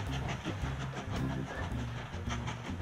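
A train rolls along the rails in the Mashinky railway game, producing a steady rumbling run with rhythmic clickety-clack beats, fairly close and continuous.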